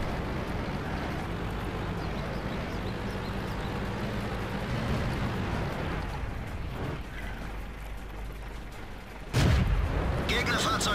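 Artillery fire in the tank combat video game World of Tanks: a steady rumbling battle backdrop breaks into one sharp, loud, close blast near the end, with a person talking over it.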